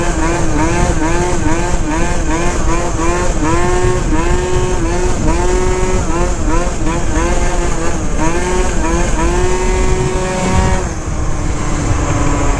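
A tuned Phantom F12 scooter fitted with a Stage6 clutch and CVT tuning revs hard during wheelies, its loud buzzing engine note rising and falling repeatedly and close to the microphone, with the pitch dropping near the end.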